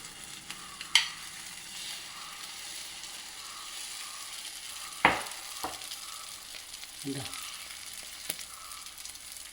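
Beaten egg and sweet potato omelette batter sizzling in hot oil on a tawa, a steady soft frying hiss with a few sharp utensil clicks and knocks scattered through it.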